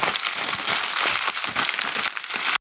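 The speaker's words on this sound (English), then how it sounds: "Paper bag crumbling." A paper bag being crumpled up close, with dense, continuous crackling and crinkling for over two seconds. Each squeeze brings brief surges, and nothing else is heard.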